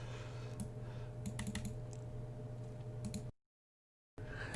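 Typing on a computer keyboard, a steady, close run of soft key clicks that stops abruptly into silence, then resumes briefly.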